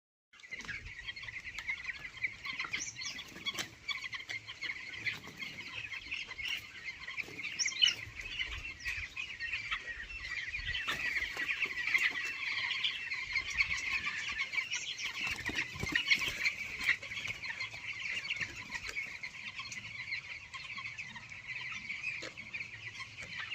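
Broiler chickens with a cold cluck and murmur steadily close by, a dense, continuous flock chatter with occasional sharper calls and no talking.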